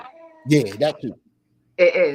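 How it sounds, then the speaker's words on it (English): A pet cat meows loudly nearby, a few drawn-out, wavering cries with short gaps between them, heard close up and mixed with a person talking. "My cat is just going crazy."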